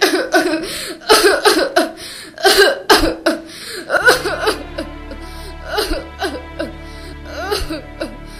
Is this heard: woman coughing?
yes